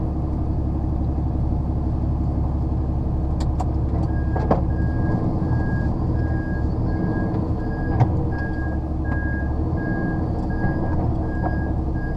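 On a UK road a vehicle turns around, its engine rumbling low and steady while a regular reversing beep repeats over it, with a couple of brief knocks partway through.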